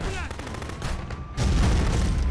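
Gunfire in the video game Contraband Police, a dense burst of loud shots that grows heavier partway through, with no voices over it.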